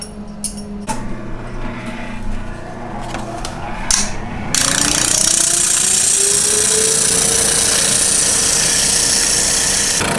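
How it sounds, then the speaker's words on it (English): After a few clanks and knocks, a spindle sander fitted with a larger spindle starts up in a garage workshop for acoustic guitar building, its motor whine rising in pitch as it spins up to a loud steady hum, heard close with no talk. "We'll switch over to the spindle sander."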